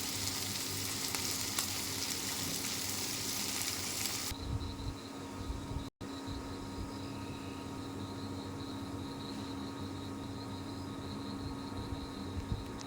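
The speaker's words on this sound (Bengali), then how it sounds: "আমার মাছ ভাজা ফিরিয়ে দেওয়া হয়ে গেছে" Tengra fish frying in oil in a pan, giving a steady close-up sizzle throughout, louder and brighter at first, then settling into a softer continuous crackle after a brief dropout.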